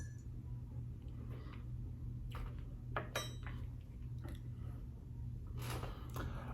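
A spoon stirs Javy liquid coffee concentrate in a cup, giving a few sparse light clinks and taps against the glass over a steady low hum.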